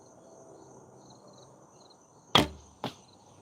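Two arrows from a 58-inch recurve bow strike a target outdoors in quick succession, each a sharp close thump, the second slightly softer, over a faint background of insects.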